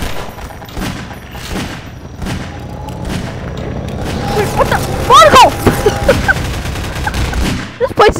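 Gunfire and explosions from the video game Garry's Mod rattle in repeated bursts and booms, with chirpy game effects mixed in and players talking over the noise.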